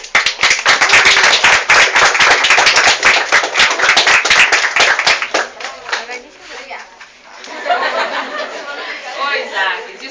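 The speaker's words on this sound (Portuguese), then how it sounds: "Bora aplaudir." A lecture audience breaks into applause, dense clapping filling the first five seconds before thinning out, followed by scattered claps and murmuring chatter as people begin talking.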